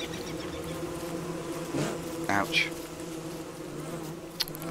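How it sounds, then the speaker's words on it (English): Killer bees in the video game Don't Starve buzz in a continuous droning swarm, with brief louder passes over the steady hum, and one short spoken exclamation. "And those are killer bees."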